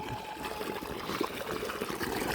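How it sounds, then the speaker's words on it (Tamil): Water gushes steadily from a 3-inch pipe fed by a 900W BLDC motor pump at a 96-foot well in Dharmapuri district, a constant close splashing rush with no pauses. "மூணு இன்ச் பைப்பில் தண்ணி ஊற்றிக்கிட்டு இருக்கு"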